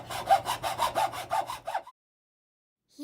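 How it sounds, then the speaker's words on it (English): A saw cuts through a cardboard tube with about eight quick, rhythmic back-and-forth rasping strokes, close and clear, then stops and leaves silence. "We are going to cut the cardboard tube for the wheel."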